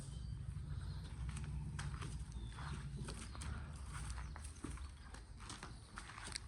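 A mare's hooves clop on the ground as she is led outside a farm stable to be tied up. Several steady, moderately close steps fall over a continuous low rumble, with no talking.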